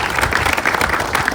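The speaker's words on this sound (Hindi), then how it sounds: "उनके लिए भी ताली बजाइए" An audience at an inter-college men's volleyball tournament in Darbhanga, organised by LNMU, applauds loudly and steadily, dense clapping from a large crowd with no pauses.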